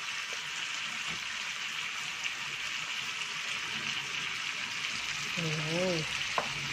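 Buttered garlic shrimp sizzle steadily in a pan as salted egg goes in, a constant frying hiss with light stirring underneath and a brief voice near the end.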